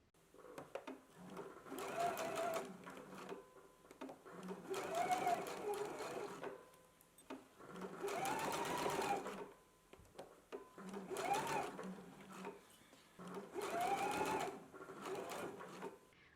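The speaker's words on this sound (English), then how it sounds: "now we can go ahead and stitch it at a 5/8 of an inch seam allowance" A home sewing machine stitches a 5/8-inch seam on a garment in five or six quiet bursts of rapid whirring, each lasting a couple of seconds, separated by short pauses.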